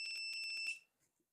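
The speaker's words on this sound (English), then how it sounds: "turn the volume down and turn on the pico buzzer" A pico buzzer on a 16-channel GPIO development board beeps in a rapid series of short, high, piercing tones lasting under a second, then stops, leaving near silence with a faint click.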